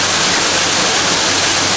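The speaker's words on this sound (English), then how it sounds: "we're right next to the waterfall" A waterfall beside a cafe in Pai, Thailand, pours as a loud, steady broadband roar of rushing water, continuous and close with no pauses or other sounds standing out.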